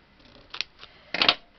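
Scissors snip through card and paper in short crisp bursts during papercraft work, a couple of brief cuts followed by a louder longer snip, close and alone.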